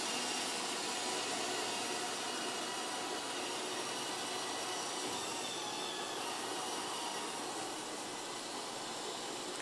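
A Roomba robot vacuum cleaner runs in a home with a steady, loud broadband whir that holds constant throughout, alone with no voices.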